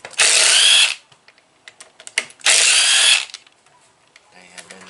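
Power tool spinning out the last two bolts on the bottom of a case, two loud sustained whirring bursts of about a second each, close up, separated by clicks and handling noises.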